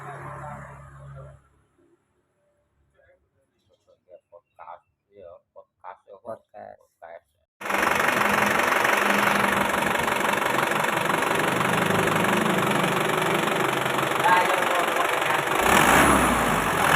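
An Isuzu Elf truck engine idles steadily and loudly after a quiet stretch of short knocks and movement sounds, holding a continuous running drone close by to the end.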